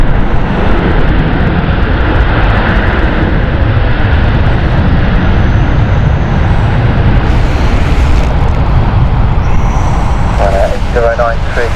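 Aircraft arriving at Stansted Airport in rain, a loud, sustained jet engine roar with wind and rain noise close to the microphone, radio chatter faintly audible near the end.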